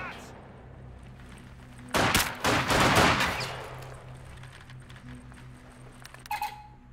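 Gunfire in the Company of Heroes 2 strategy game, a sharp cluster of rapid shots bursting after a quiet stretch, then a short second burst near the end, over low battle ambience with a voice calling out.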